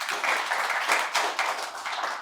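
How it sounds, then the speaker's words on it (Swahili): Applause fills a talk show set, dense continuous clapping from a live audience, loud and close with uneven bursts throughout. "Makofi."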